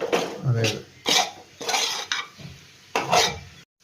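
A spoon stirs and scrapes masala paste around a pan for Kerala-style chicken mappas, five or six distinct close strokes in an uneven rhythm.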